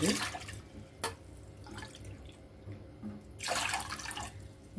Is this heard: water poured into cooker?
yes